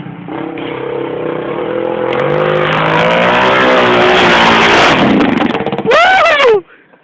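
A 400cc motorcycle climbs a steep hill in the rain near Mococa, its engine winding up through rising revs, growing louder and harsher before a final sharp high-pitched rev and sudden cutoff.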